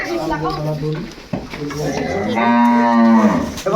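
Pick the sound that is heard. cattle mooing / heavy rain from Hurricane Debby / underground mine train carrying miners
cattle mooing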